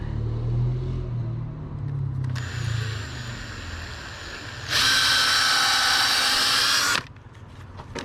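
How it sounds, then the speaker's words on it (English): Power drill boring a pilot hole into a wooden twin bed frame, with a short bore at mid-volume followed by a louder, sustained high-speed run lasting about two seconds, close by and with no talk. "Do a pilot hole. Pilot hole here."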